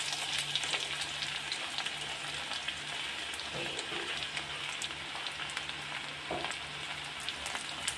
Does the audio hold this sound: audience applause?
no